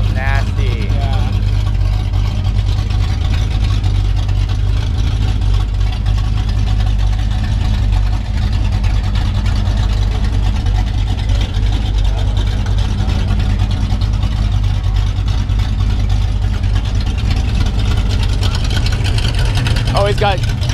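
Loud car engine fitted with dump pipes idling and rumbling steadily at a car show, close and continuous, with people talking nearby.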